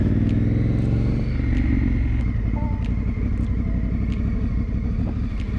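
A Honda Africa Twin motorcycle on a long tour, its engine rumbling loud and steady close by with a low throb running throughout and no speech.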